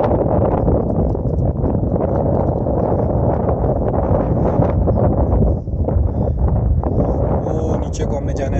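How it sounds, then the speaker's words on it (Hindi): Strong wind roaring steadily across trees on a rocky mountain path, a dense, constant rush buffeting the microphone with no clear pauses. "हवा चल रही है बहुत तेज"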